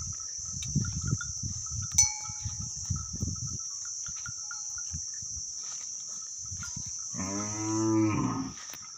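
Cattle on a farm, with a single loud, drawn-out moo near the end, heard over a constant high insect whine, faint rustling and thumps.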